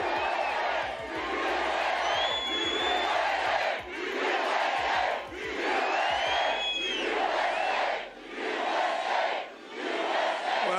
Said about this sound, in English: This is a nice, big, beautiful crowd